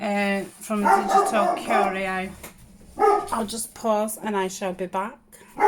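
A dog barks indoors in a home craft space, several sharp barks mixed in with someone talking close to the microphone.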